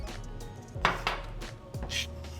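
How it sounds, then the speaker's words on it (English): A knife chops pistachios finely on a kitchen cutting board, producing a few sharp, close knocks and clacks at uneven intervals. "we're just chopping up the pistachios"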